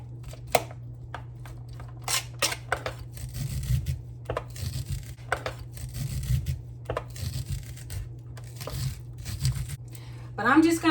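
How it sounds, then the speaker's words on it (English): A knife shears kernels off an ear of corn in repeated short rasping strokes on a countertop, close and fairly quiet, with a steady low hum beneath and a person talking over it. "But I'm just going to keep cutting this corn off the cob."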